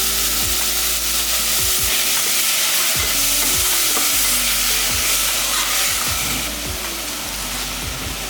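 Sprouted horse gram frying and being stirred in a pan, a loud steady sizzle with regular scraping and knocking of the spoon against the pan, several strokes every second.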